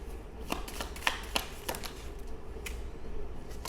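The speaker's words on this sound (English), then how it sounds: "You see me and hear me shuffling." Playing cards being shuffled, a series of soft riffling flicks and taps at close range, quiet and uneven in rhythm.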